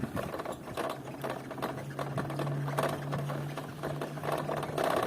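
A FADA IDEA electric bicycle with a Li-Ion battery riding fast over a dirt field road, its motor whining steadily under a rapid mechanical rattle and bumpy crunching, fairly faint, no voices.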